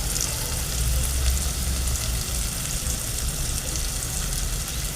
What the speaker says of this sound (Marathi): आता लसूण पेस्ट टाकू.